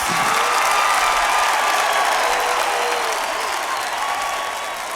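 A comedy show audience claps loudly and continuously, with a few cheers mixed in, fading slightly toward the end.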